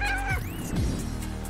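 A cat gives a single drawn-out meow that slides and fades, loud and close, with no voices over it.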